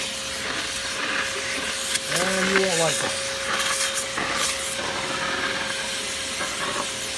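A vacuum cleaner steadily sucks dust out of a Lagler Trio floor sander, a continuous hissing whoosh throughout, with a person talking briefly over it and a short tonal whine near the start.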